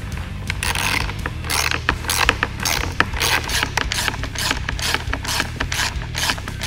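A ratchet tightening fender flare bolts on a Jeep Wrangler JK, rapid close clicking strokes repeated in steady bursts, loud and alone.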